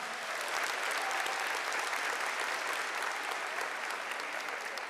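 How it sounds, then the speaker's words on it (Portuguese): A church audience applauds at a religious talk, with continuous even clapping that sounds fairly distant and soft, with no speech over it. "Pode aplaudir isso, gente, isso é história."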